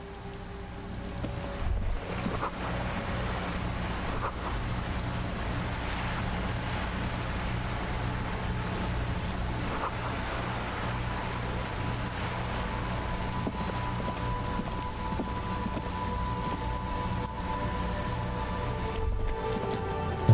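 Rain falling on the great city of Rivershaw in a video game, a steady, even hiss of downpour heard alone over a low ambient hum, constant and close throughout.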